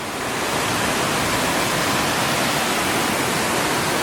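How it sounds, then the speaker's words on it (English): Trestle Falls in Tasmania cascades down a series of drops, a steady, loud, unbroken rush of falling water with no voices. "The cascades come down."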